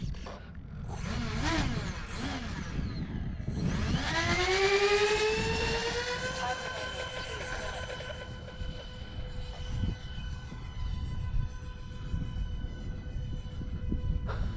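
A model RC airplane engine roars steadily and close during a long takeoff roll, its whine rising in pitch as the plane speeds up and then holding at a loud, sustained drone.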